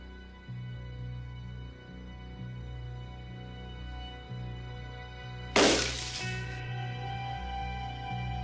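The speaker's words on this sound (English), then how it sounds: "this young history teacher is going to try to will this sheet of glass to shatter" A sheet of glass shatters suddenly over a low, steady background hum in a 1978 film, one loud, crisp crash with tinkling fragments that fade over a second or two.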